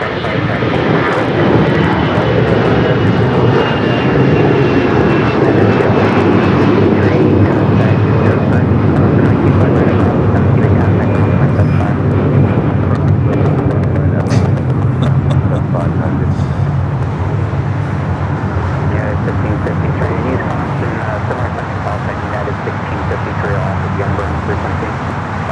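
Jet airliner engines roar loudly and steadily at LAX airport during takeoff, a broad sustained rumble with a slowly falling whine.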